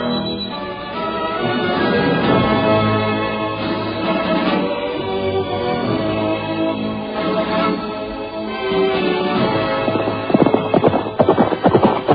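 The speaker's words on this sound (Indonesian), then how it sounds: "kuda itu pun sudah berlari kencang menerobos barisan" A horse gallops hard through a line of people in a radio drama, with a steady stream of hoofbeats under dense music-like sound that grows choppier and more accented toward the end.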